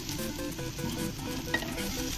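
Onions frying and sizzling in a pan on a low flame while ramen dosa is made, a steady dense sizzle with stirring scrapes throughout, close and continuous.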